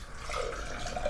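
Mountain Valley spring water poured into a cup, a brief soft gurgling splash, quiet and close.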